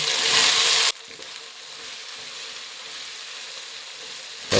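Chillies and chopped onions hit a hot pan for rice bath, a loud burst of sizzling for about a second that quickly settles into a softer, steady frying hiss, with no one talking.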